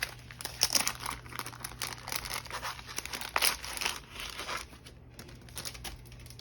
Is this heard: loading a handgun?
no